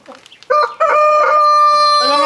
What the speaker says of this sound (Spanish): ¡Es la gallina! ¡Cállate, guarra!